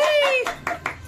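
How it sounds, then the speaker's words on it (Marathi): Three or four quick hand claps ring out at a family meal gathering, preceded by a brief high-pitched voice, close and clear. "टाळ्या."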